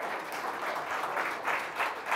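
A church congregation breaks into applause, a dense steady wash of many hands clapping with swells and no voices on top.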